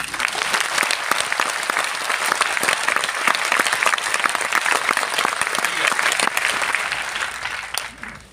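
An audience claps in a hall during a lifestyle marketing training session: dense, loud, sustained applause from many hands that carries on for several seconds before tapering off at the end.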